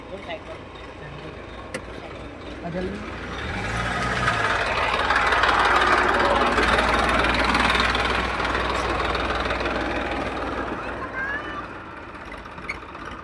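A motorcycle engine, started without its key, idles with a steady low rumble that swells in the middle and fades again, under ambient noise.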